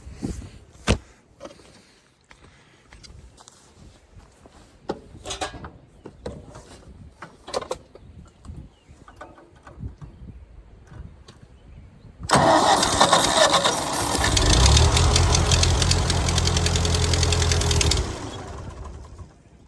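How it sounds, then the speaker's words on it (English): A Ford 8N tractor engine cranks with a loud starter whir, then catches and runs roughly for several seconds up close before cutting off; quieter handling noises come before it. "Let's see if she starts up"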